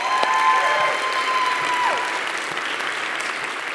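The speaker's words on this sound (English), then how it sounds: "Can we give them one more round of applause?" A church congregation claps for its pastoral staff in a steady, moderately loud round of applause, with a few faint tones and a brief voice drifting over the clapping.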